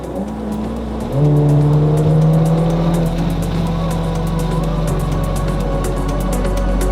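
A car driving on an open road near a lake, its engine note rising as it accelerates and then holding a steady drone with tyre and road rumble, close and continuous throughout.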